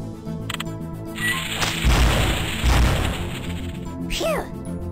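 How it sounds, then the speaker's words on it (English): Cannons fire in the 1995 PC puzzle game The Incredible Machine 3, a pair of loud booming crashes amid clanking game effects and a short descending tone at the end. "Fire all of the cannons."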